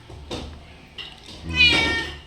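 A cat gives a short chirp followed by a longer, louder meow nearby, with a brief bit of human voice mixed in.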